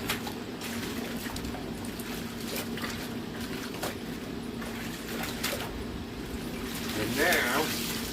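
Laundry being sloshed and rinsed by hand in a tub of rinse water beside an old ring washer, a steady watery wash with occasional splashes and a low machine hum underneath.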